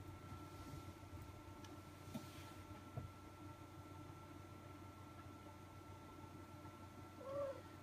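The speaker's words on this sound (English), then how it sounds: "Excuse me, my cat's going crazy again." A house cat meows faintly once near the end, a brief rising call over a low, constant electrical hum in a quiet room.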